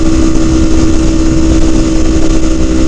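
A Kawasaki Ninja 300 motorcycle engine while riding, a loud, steady droning hum with constant wind rush, sustained with no talking over it.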